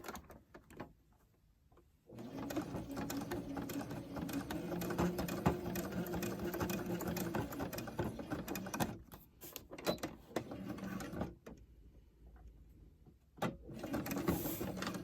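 An old sewing machine stitches a fitted fabric face mask, starting after a quiet moment and then whirring and clattering steadily up close, with brief pauses and a last short burst of stitching.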